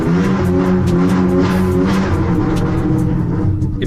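A wrecked BMW F10 engine runs loud and close with a steady low rumble and a slight rise in pitch, without any talking.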